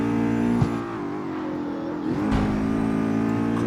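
An Audi RS7 in the racing game CarX Street accelerates with a steady, harmonic engine drone that rises in pitch as it gains speed, loud and close with no talk over it.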